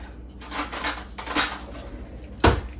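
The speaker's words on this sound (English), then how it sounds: "I'm gonna grab a teaspoon really quick." Cutlery and dishes clatter close by as a teaspoon is grabbed from a kitchen drawer, a few quick metallic jingles and clinks with a sharper clank near the end, no talking.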